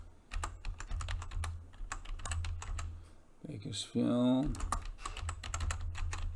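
Typing text on a computer keyboard, a fast run of crisp clicking keystrokes, close and clear, while someone speaks over the taps.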